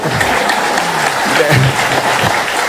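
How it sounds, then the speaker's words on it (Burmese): An audience at a church gathering claps to welcome two singers, a dense burst of applause lasting a few seconds with faint voices mixed in. "အားလုံး လက်ခုပ်တီးပြီးတော့ကြိုရင်မကောင်းလား"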